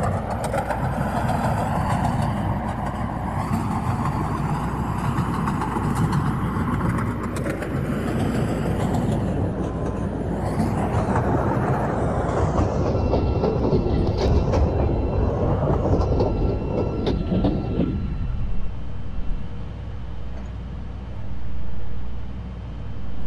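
A CTA Series 5000 rapid transit train in a Roblox game rumbles loudly and steadily along the track, its pitch rising and falling as it runs, then fades to a quieter hum near the end.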